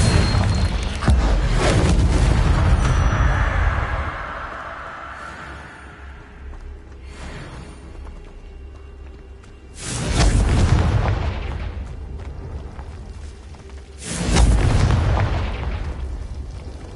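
Confringo blasting spell explosions in the Hogwarts Legacy video game: a long rumbling boom at the start, then two more heavy bursts several seconds apart, each with a deep rolling low end fading out.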